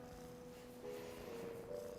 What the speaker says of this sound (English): is a cat. You have a cat in your room.